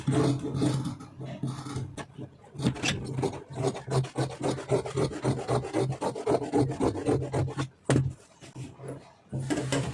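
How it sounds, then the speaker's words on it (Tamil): Scissors snip and rasp through fabric while cutting pieces for gathered pants, a close, steady scratchy cutting sound that continues through most of the stretch with short pauses. "இப்போ இந்த சைடு பீஸ் கட் பண்ணியிருக்கோம்ல"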